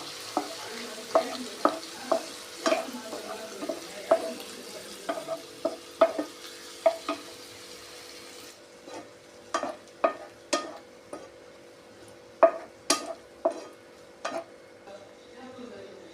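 Prawns being sautéed in a pan with a pinch of turmeric, giving a series of sharp, irregular stirring scrapes and clinks over a low background sizzle, moderately close and fairly quiet, no talking.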